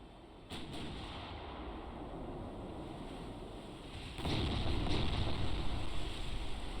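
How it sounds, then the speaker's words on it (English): A warship in a naval video game fires a broadside from several gun turrets: a muffled, distant boom, then a heavier rolling blast that stays low and rumbling under a faint wind-like background. "There's a big glorious broadside here."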